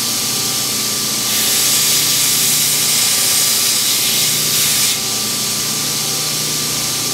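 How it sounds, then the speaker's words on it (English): A belt sander grinding the front edge of a steel bowl gouge gives a loud, steady hiss that swells for about four seconds, with the machine's running whir beneath it before and after. "We'll do that on the belt sander."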